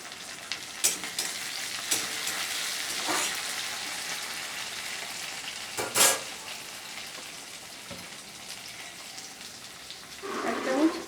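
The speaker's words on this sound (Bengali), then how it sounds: "এই পেঁয়াজ লাল লাল করে ভেজে গেছে এর মধ্যে আমি একটা ছোট্ট টমেটো দিয়ে দিলাম" Browned onions and a small tomato frying in a pan, a continuous moderate sizzle punctuated by occasional utensil clicks and a louder burst of crackling near the end.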